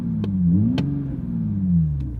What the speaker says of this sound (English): Now, listen to the engine.